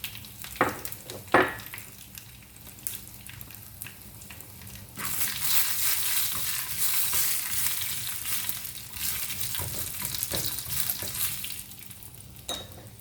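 Mustard seeds and dried chillies sizzle in hot coconut oil, a few sharp pops and clicks at first, then a loud, steady broadband hiss swells in midway and carries on before easing near the end; no one speaks.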